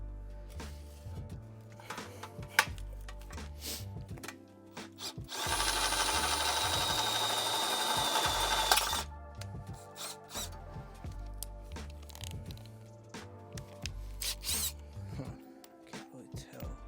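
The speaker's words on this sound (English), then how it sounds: "I'm just gonna take this big ass step bit, or unibit, or whatever you wanna call it. Just enlarge these holes a tiny bit." A large step drill bit bores out existing holes in a Z1 Off-Road transmission skid plate for a 2022 Nissan Frontier, a steady grinding whir lasting a few seconds amid clanks and handling noise in a workshop.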